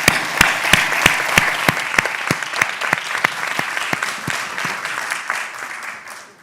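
A crowd at the SEA-EU Congress applauds steadily, with sharp clap hits standing out in a regular rhythm at first, the clapping gradually thinning and fading toward the end.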